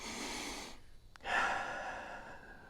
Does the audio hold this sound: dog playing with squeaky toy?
no